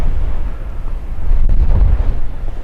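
Strong winter wind blasts across Mam Tor hill above Castleton, roaring and buffeting the microphone as a loud, continuous low rumble that surges throughout.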